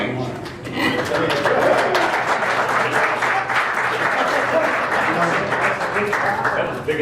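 County board members and the audience in a meeting room break into sustained applause, thick continuous clapping from many people that swells early and stays level throughout, with some faint voices under it.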